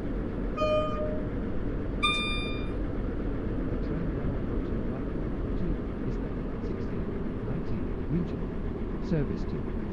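A two-coach British Rail passenger train rumbles steadily along the rails from start to finish, heard from inside. Two brief chime-like tones sound near the beginning.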